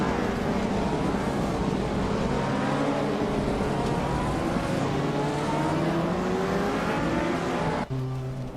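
Engines of race cars roar steadily in a racing video game, a 1996 Toyota Celica among them, with layered revving tones holding throughout and a brief dip near the end.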